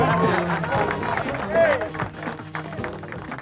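Crowd applause and cheering for the winner of a powerboat poker run in New York City, a lively mix of clapping and excited voices with a babble of people talking throughout.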